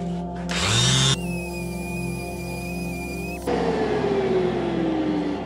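An old Bosch power sander runs on wood with Festool dust extraction, a loud steady whine and hum that shifts pitch as the tool is started and loaded, then the motor note slowly falls.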